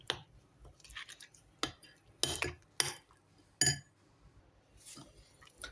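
A utensil scrapes and clinks against a bowl while stirring syrniki batter, a series of uneven, sharp taps and strokes with quiet pauses between them.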